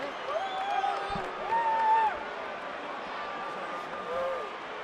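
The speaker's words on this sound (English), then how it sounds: "You hear the reaction of the crowd." A boxing arena crowd murmurs and calls out in stunned reaction to a disputed decision, a distant, swelling roar of voices beneath whoops and a commentator talking over it.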